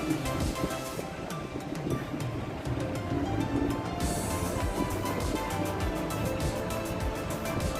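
Cashews fry in oil in a biryani pan while being stirred: a dense, continuous sizzling hiss with scraping from the mixing, loud and close, with no voices.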